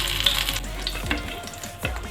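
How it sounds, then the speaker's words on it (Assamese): Bay leaf and two dried red chillies hit hot oil in a pan while cooking pointed gourd, giving a steady close sizzle and fry with a few soft stirring knocks, no voices. "তেলতে দি দিছোঁ তেজপাত এখিলা, জলকীয়া 2টা,"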